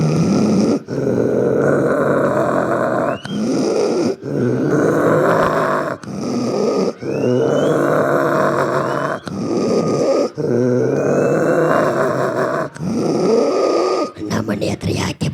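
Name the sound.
man imitating dogs growling and fighting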